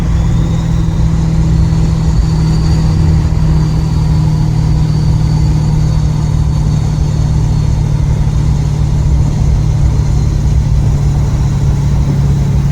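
Deep, constant diesel drone from a 2018 Ford F350 with compound turbos held at around 2,500 rpm, close and loud with a thin high turbo whistle layered on top, no voices.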